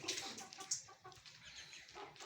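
Aseel chicken chicks chirp and cluck in a busy, continuous chatter, close by, with overlapping high calls and soft scratching.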